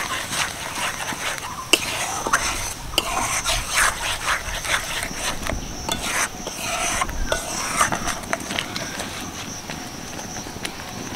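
A ginger, jaggery, black salt and pepper mixture being stirred with a spatula for ginger candy: repeated rasping scrapes and taps against the pan over a low background, fairly close and continuous.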